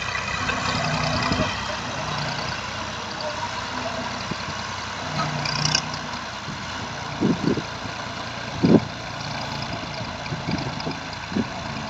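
A tractor hitched to a trolley runs with a continuous low engine drone, steady and fairly near, with a few short knocks and clunks along the way.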